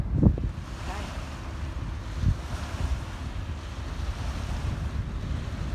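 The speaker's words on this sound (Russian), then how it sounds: "Ленские волны." Waves on the Lena river lapping steadily under strong wind noise, a continuous rough wash with a couple of brief louder slaps near the start.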